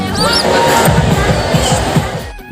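A packed crowd at the Maa Banjari temple fair in Raipur during Navratri makes a steady, busy hubbub of many voices close by, with rhythmic thumps and shouts mixed in and a voice speaking nearby.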